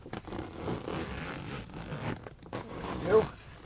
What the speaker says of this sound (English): Not sure what happened to the zipper here